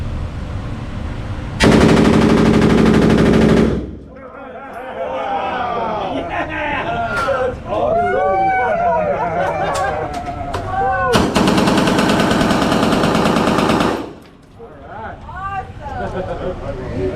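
Two long bursts of rapid Uzi-style machine gun fire from a laser shooting game at a crowded expo, loud and close, each lasting a couple of seconds, with chattering voices and crowd babble in between.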